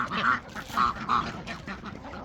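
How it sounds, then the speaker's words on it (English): Ducks on a small farm quack in three loud, close calls and then trail off into softer chatter, with no speech. "Get the ducks over here."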